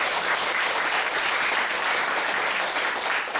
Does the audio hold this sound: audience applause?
yes